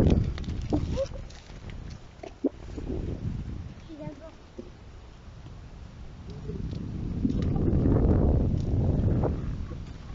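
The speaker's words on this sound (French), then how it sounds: "Par contre, on a du vent." Gusty wind rumbles and buffets outdoors in marshland, swelling louder toward the end, with scattered voices and footsteps in between.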